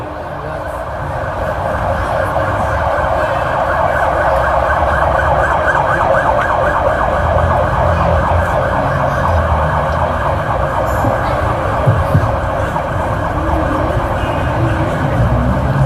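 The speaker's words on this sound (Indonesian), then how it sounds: "Ambulan ya? Ya, kita hormati ambulannya." A siren passes in the street, wailing loud and continuous for about fifteen seconds over a rough traffic rumble, with no talk over it.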